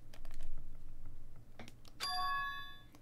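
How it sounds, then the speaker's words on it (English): A bright chime rings out in Danganronpa 2, a ringing tone following a scatter of soft clicks, standing clear and alone against quiet game ambience. "Was that a school bell just now?"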